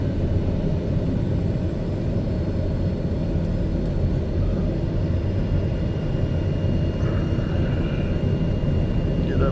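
Steady broadband engine roar of an aircraft on its takeoff run in a flight simulator, a continuous loud rumble throughout with no breaks.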